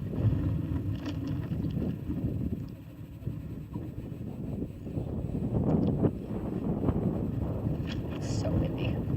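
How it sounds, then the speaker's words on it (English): Gusty wind buffets the microphone throughout at an outdoor high school graduation ceremony, a heavy low rumble that swells and eases, with faint voices or activity buried underneath. "So windy."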